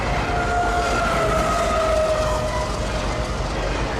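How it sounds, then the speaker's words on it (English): A CSX freight train's distributed-power locomotive in the QO26 consist runs at full throttle, pulling its share of the load, with a loud, steady, close engine roar and faint tonal whine throughout, with no talking. "That DP unit is not idling anymore. He's running wide open, pulling his part of QO26."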